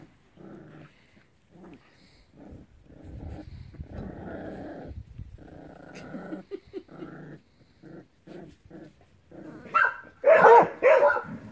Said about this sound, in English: when the dogs bark, they're not horrified, which is nice